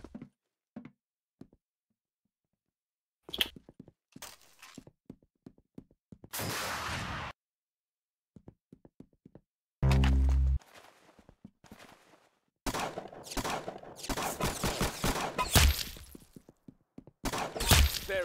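Intermittent gunfire in the Roblox game Arsenal, with sharp isolated shots, short bursts and louder clusters of rapid fire separated by silent gaps.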